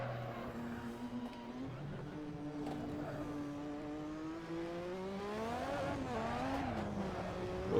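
A McLaren MP4/4 or Lotus 98T turbo Formula One car at Spa in Assetto Corsa locks its tires under braking: the engine note drops through downshifts and a brief tire squeal rises, close and continuous.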